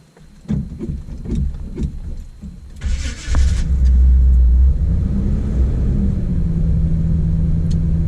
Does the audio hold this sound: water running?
no